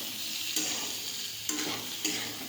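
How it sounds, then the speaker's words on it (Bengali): Mango pieces with salt for pickle are stirred in a hot pan, a steady soft sizzle punctuated by three brief scraping strokes of the spatula, close and unaccompanied by talk. "নাড়তে থাকবো"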